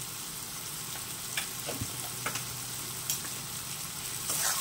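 Spice masala sautéing in a pan, with a steady close sizzle and scattered sharp spatula scrapes and taps over a few seconds, heard alone without talk.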